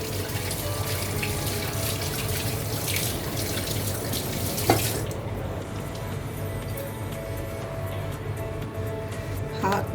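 Tap water runs steadily into a sink while hands are washed under it in a home kitchen during naan preparation, a close continuous splashing that cuts off midway, leaving quiet room sound and a faint clink.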